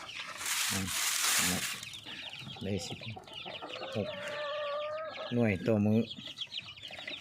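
Chickens clucking on a small farm, close and fairly loud, with repeated short calls and a few louder squawks while someone talks over them.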